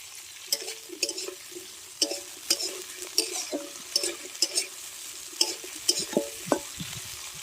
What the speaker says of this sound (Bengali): এবার আমি ফুলকপিটা ভেজে নেব।